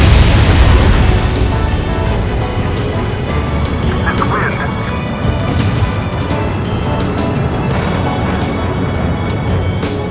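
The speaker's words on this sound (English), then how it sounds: "Missile away." Missile launch and explosion in the jet combat game Ace Combat 7: Skies Unknown: a loud, dense roar that swells at the start, then a sustained rushing wash of engine and blast noise under faint radio chatter.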